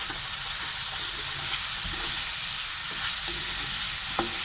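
Green chilies stirred as they fry with chicken and egg, a steady close sizzle with scraping spatula strokes and occasional clinks, no talking.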